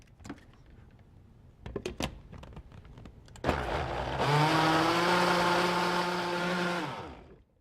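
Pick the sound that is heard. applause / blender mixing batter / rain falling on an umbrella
blender mixing batter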